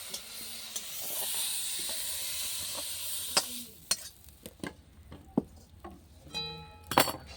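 Prawns fry in oil in a pan on a clay stove, giving a steady sizzling hiss that fades out partway through, followed by scattered metallic clinks and scrapes of a utensil against the pan.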